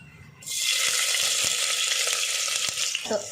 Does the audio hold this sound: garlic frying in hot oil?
yes